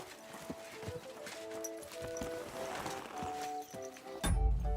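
Rhythmic clip-clop of horse hooves at a steady trot in the video game Kingdom Come: Deliverance II, with sustained musical tones underneath and a sudden louder rumble at the end.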